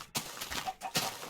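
Minecraft chickens cluck in short, soft bursts, three or four quick separate calls within about a second, heard alone without talk.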